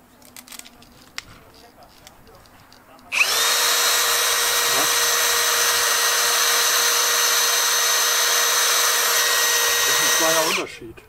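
A cordless 18V hammer drill on a Makita battery starts abruptly after a quiet moment, running at a steady high-pitched whir for about seven seconds, then winds down and stops.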